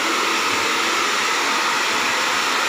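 Hair blower drying hair during a pixie haircut, a steady close whooshing airflow running unbroken from start to finish with no voices over it.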